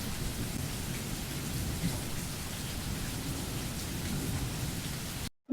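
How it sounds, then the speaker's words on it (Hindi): Heavy, steady rain pours in a Panchavati jungle cartoon, with thunder rumbling through a dense, continuous downpour that runs loud and unbroken for several seconds before cutting off abruptly. "पंचवटी जंगल में बहुत तेज बारिश हो रही थी।"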